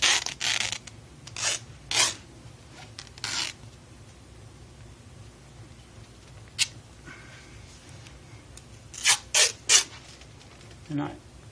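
Athletic tape is pulled and applied across the foot for plantar fascia support, with short, sharp rasping strips of tearing and unrolling. The bursts are spaced irregularly over quiet rustling and cluster toward the end.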